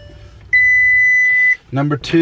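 A single long, steady electronic warning beep from a Volkswagen Touareg holds for about a second, followed by a shorter chime-like tone, with faint background murmur.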